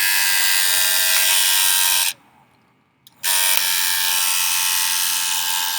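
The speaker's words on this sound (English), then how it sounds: "I think I'll speed it along a little bit with a hair dryer" A loud, steady hair dryer blows continuously, cuts off for about a second, then roars back on at full strength.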